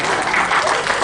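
Audience applause at a live product presentation event, a dense burst of clapping filling the short moment at steady loudness.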